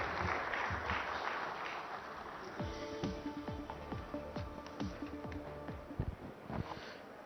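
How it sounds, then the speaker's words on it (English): Audience applause at a business awards event for a welcome address: a noisy crowd wash at first, then a stretch of sharper, distinct claps over a low murmur, with faint tonal music underneath. "Can we have a huge round of applause, please?"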